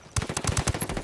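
Rapid automatic gunfire from the video game Ghost War rattles off in a quick burst of sharp, evenly spaced shots, close and fairly loud, with no talk.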